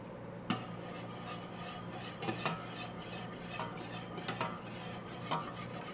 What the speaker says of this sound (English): grab my whisk here.